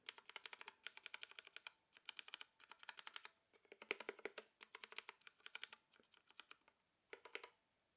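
Cherry MX Speed Silver switches on a Ducky One 2 Mini 60% mechanical keyboard clatter in quick close bursts of key presses, pausing briefly between flurries, with no talking.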